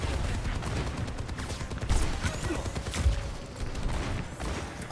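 Video game gunfire crackles in rapid, fairly faint bursts of shots with a few louder hits, set against a dense background of game noise.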